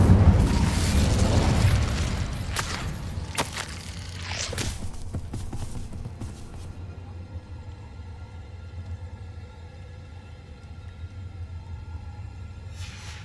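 Incendio fire spell cast in Hogwarts Legacy, a loud whooshing burst of flame with rumbling crackle that swells at first, then fades into a lingering low roar and quieter ambience.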